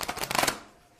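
A quick run of papery riffling as tarot cards are shuffled, close and crisp, tapering off into quiet after about half a second.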